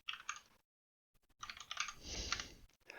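Close, quiet clicking of computer keyboard keys while entering commands for Active Directory enumeration, a burst of typing, a brief silent pause, then a longer run of fast keystrokes.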